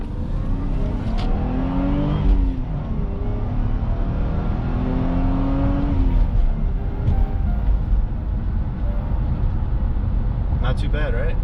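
A Lexus IS300 with a factory-rated 210 horsepower accelerates hard, its engine note rising through gears with audible shift dips, loud and close from inside the car, with a voice briefly heard near the end.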